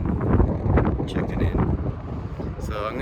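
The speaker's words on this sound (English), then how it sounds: "Oh, it's windy over there." Wind blows hard against the microphone outdoors, a loud, gusty rumble that buffets throughout with brief rustling bursts.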